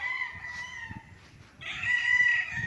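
Gamecocks on a game farm lot in Pagsanjan, Laguna, with one rooster crowing loudly nearby and another crowing again after a short gap, over soft clucking and rustling in the background.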